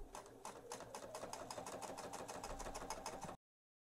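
Sewing machine quilting through many thick layers of a quilted microwave bowl cozy, with rapid, regular stitching heard up close for a few seconds before cutting off abruptly.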